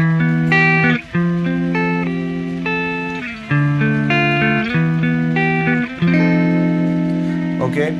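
Electric guitar played through a simulated vintage Fender amp in a virtual amp room, with a clean-to-crunch tone; sustained chords and single notes ring out loud and close, with brief gaps between phrases, alone with no talk.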